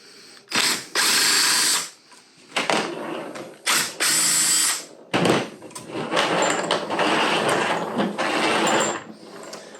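A power tool spins out three 8mm bolts from the dual pump unit on a Honda CR-V/Element rear differential, loud bursts of whirring and ratcheting with short pauses between, close up and with no talk.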